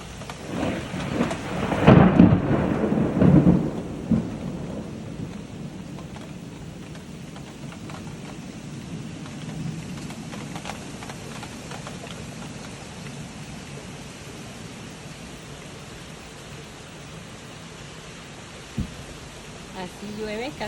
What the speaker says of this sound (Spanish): Así llueve casi siempre en Atlanta, Georgia.